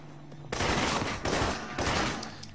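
Sustained automatic gunfire rattles in the espionage shooter Alpha Protocol, a loud, dense burst erupting abruptly and continuing in rapid overlapping volleys for about two seconds, close and unbroken by talk.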